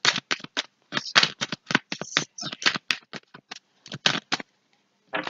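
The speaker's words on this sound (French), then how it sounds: "Allez, on va aller prendre 5 cartes." Playing cards are shuffled by hand in quick bursts, a crisp riffling and flicking repeated in rapid, uneven strokes with short gaps between them, close and clear with no voices.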